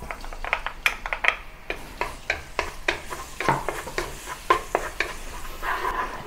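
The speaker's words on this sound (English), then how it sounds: "Heat some oil in the wok or a pan and then saute the chopped garlic." Chopped garlic sautéing in hot oil in a wok, with a steady crackling sizzle broken by repeated sharp scraping and stirring clatters from a utensil against the pan, close and moderately loud.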